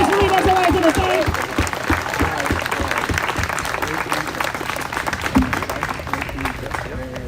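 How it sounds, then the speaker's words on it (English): An audience claps in sustained applause, dense and loud at first and gradually thinning, with a few voices and cheers mixed in. "if we can give a round of applause to Julianne Jackson."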